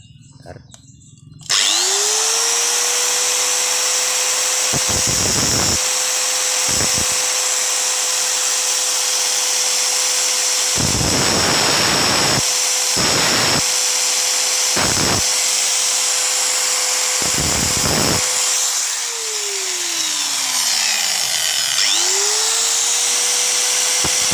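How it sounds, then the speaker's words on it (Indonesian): An angle grinder works on a piston ring, a loud, high, sustained whine. It spins up, is cut into by brief gaps and harsher bursts of grinding, winds down, then starts again. The sound is close and it drowns out everything else. "Jadi saya akan menguranginya, tentunya menggunakan gerinda."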